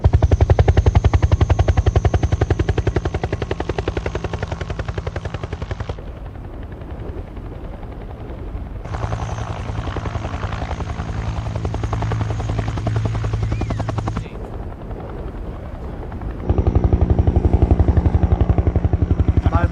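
A helicopter-like aircraft flying in gusty conditions, a loud continuous rotor and engine roar with rhythmic chopping that drops back and surges again in uneven stretches.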